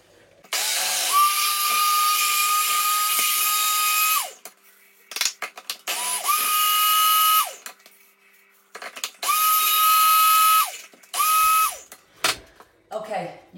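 A countertop blender whizzes oats into a fine powder in three loud, steady bursts of several seconds each, with short pauses and handling noises between them and a brief final pulse.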